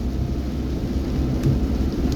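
Thunderstorm with steady heavy rain during a summer storm in Ubon Ratchathani, Thailand, a continuous low rumbling roar of downpour and distant thunder filling the whole stretch, with no talking.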